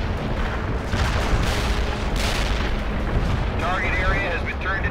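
Artillery strike explosions pound a target area in World in Conflict: Soviet Assault, a sustained rumbling barrage of overlapping booms and bursts, steady and loud throughout, with a faint radio-like voice near the end.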